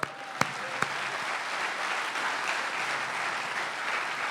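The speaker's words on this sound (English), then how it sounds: "we need to applaud" Audience applause at a speech, a steady even patter of many hands with a couple of sharp louder claps near the start, moderately distant and soft.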